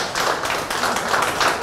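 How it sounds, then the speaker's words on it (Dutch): Audience applause at a Surinamese COVID-19 press briefing, a steady dense patter of clapping hands that holds evenly throughout without speech. "Applaus graag."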